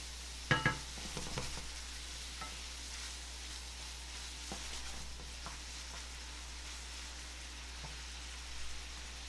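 Onion and celery frying in a pot for beans, a steady soft sizzle with a few sharp pops and clinks near the start, no talking.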